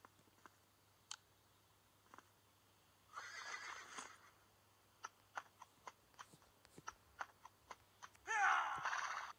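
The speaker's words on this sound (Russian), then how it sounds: "Вон лошадь." A horse in the Western video game West Gunfighter whinnies loudly near the end, after scattered clicks, soft snorting and a brief burst of breathy noise, with no one speaking.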